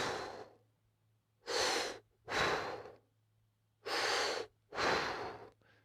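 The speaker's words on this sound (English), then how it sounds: "So the breathing rhythm that I usually like is like so." A person demonstrates a breathing rhythm for the squat with four strong, deliberate breaths, spaced evenly and heard up close against a quiet background with a low hum, with no speech.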